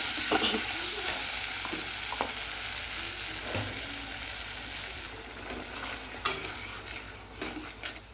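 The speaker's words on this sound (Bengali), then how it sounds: "ভালো করে কষতে দিচ্ছি, তারপর জল দিয়ে দেবো।" Curry masala sautéing in a pan: continuous loud sizzling with spatula scrapes across it, close by and alone, with a few sharper clinks near the end.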